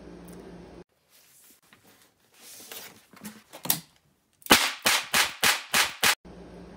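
A revolver fired rapidly one-handed in a self-defence practice setting: six sharp, loud shots in a quick even string after a stretch of quieter handling sounds and silence.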